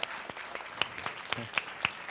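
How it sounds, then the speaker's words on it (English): Audience applause for a speaker at a marketing academy event, a fairly thin, scattered round of clapping with distinct individual claps, faint and somewhat distant. "Let's give a big round of applause for Timour."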